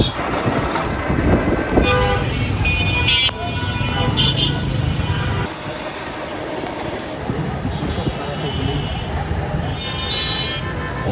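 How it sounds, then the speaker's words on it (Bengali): A train passes a road level crossing in Rangpur on a rainy day: a steady, loud rumble of rolling wagons with a few short horn toots, mixed with nearby traffic and background voices. "ট্রেনের সাথে আমাদের একটা সম্পর্ক আছে, রাস্তা দিয়ে যখনই যাব তখনই ট্রেন যায়"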